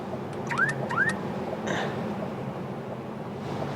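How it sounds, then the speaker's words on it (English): Factory alarm on a 1995 BMW 540i E34 sedan going off: two rising chirp-like sweeps followed by a brief tone, moderately loud over steady background noise. "Now the alarm system, factory alarm system, is freaking out."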